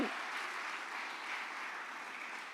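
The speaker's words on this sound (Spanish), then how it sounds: "Denle ese aplauso bien fuerte, hermanos, a Dios." Church congregation applause, a dense, even wash of many hands clapping that holds steady for the whole stretch, moderately distant and fairly quiet.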